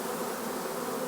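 A huge swarm of honey bees buzzes nearby, a dense, steady, unbroken drone filling the air without pause.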